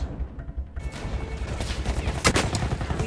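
Video game gunfire crackles in a dense burst of overlapping shots, loud and close, with a sharper volley near the end and no talk over it.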